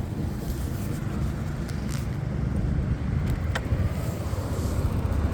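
A Yamaha Aerox scooter engine idling close by, a steady low rumble with a windy, breathy wash over it and a few faint clicks, running continuously.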